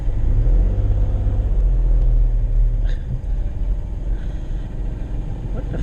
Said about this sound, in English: There's a big lorry heading towards me.